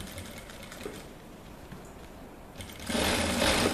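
A sewing machine stitches around a shirt collar, a continuous close mechanical whir that swells noticeably louder toward the end, with no voices.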